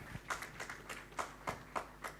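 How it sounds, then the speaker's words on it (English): Hand clapping at a donation event, a sparse run of about eight soft, slightly distant claps at an uneven rhythm. "Hand clap there."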